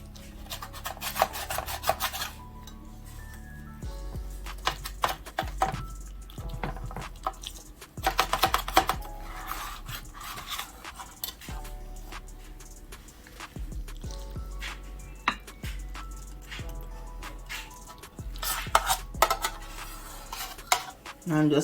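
Knife scraping and cutting through a freshly baked cabbage casserole in its dish, with repeated rasping strokes and clinks of metal on the pan, moderately loud and close, no talking.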